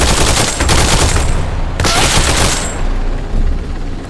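Sustained automatic gunfire during a breaching drill, a dense, continuous burst of rapid shots filling the whole stretch with only brief dips, loud and close.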